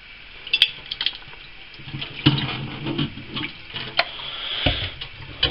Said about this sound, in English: Some water on that line.